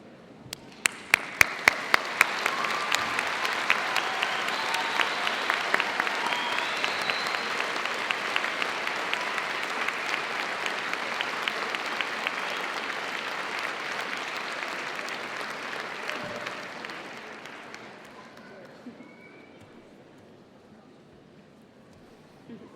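Graduation ceremony audience at Birmingham City University stands and gives a long round of applause for families and friends, a dense hall-filling clatter with a few sharp early claps, steady for about fifteen seconds before fading out.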